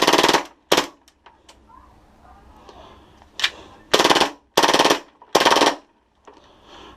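Walther PPQ gas blowback airsoft pistol fired full auto from a 44-round magazine into a box: several sharp, loud rapid-fire bursts separated by short pauses, close up and alone.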